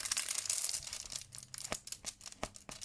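Protective plastic film crinkles and peels off a diamond painting clutch, a close dry rustle that gives way to several sharp crackling snaps, heard alone with no talking.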